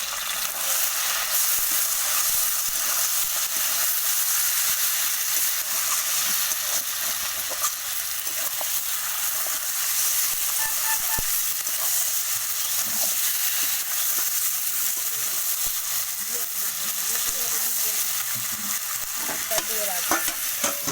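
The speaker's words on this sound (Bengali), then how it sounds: "ভালো করে কষে নেব।" Mutton curry with tomato is stirred and sautéed in a pan, a steady close sizzle and hiss with scraping stir sounds running the whole time.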